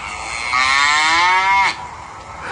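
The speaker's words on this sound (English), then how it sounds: "Why are you playing cow noises?" A recorded cow moo plays back through a speaker, one loud drawn-out low bellow lasting about a second before cutting off into quiet room noise.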